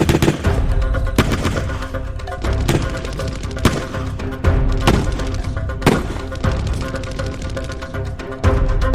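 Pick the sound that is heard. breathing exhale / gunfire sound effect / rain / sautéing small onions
gunfire sound effect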